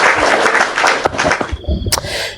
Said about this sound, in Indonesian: Tepuk tangan buat Bang Loading.